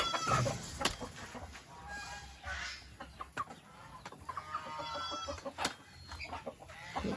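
Chickens clucking nearby in repeated short bursts, with other birds and outdoor ambience in the background.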